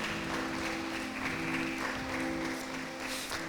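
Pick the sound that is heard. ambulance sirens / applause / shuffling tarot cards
applause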